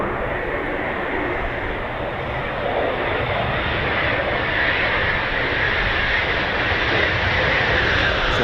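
A Eurofighter Typhoon FGR4 fighter jet at RAF Coningsby gives a loud, sustained jet-engine roar that builds slightly and holds steady throughout, with a broad rushing hiss and no talk over it.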